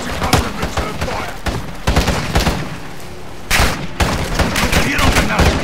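Rapid gunfire bursts and heavy shots crack through a firefight in Call of Duty Modern Warfare 2, loud and close, with repeated volleys, a brief lull, then sharp blasts resuming.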